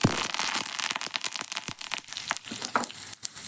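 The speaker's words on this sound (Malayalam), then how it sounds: "അങ്ങനെ നമ്മുടെ കടു താളിച്ചത് ഇവിടെ റെഡി ആയിട്ടുണ്ട്" Mustard seeds splutter and pop densely in hot oil for tempering, with dried red chilli and curry leaves added for a lentil, drumstick and tomato curry; a continuous close crackle without talk.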